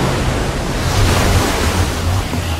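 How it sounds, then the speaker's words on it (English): Water gushing out in a Minecraft Story Mode game, a loud, dense rushing roar like surf that holds steady and swells slightly midway, filling the whole clip with no voices. "I don't know how much water this thing is gonna kick out"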